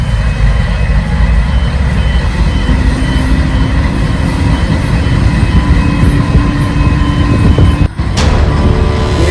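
A train pulling out of Exeter station bound for Sydney, a loud, continuous low rumble of engine and wheels with steady mechanical whine, a brief sharp clank near the end.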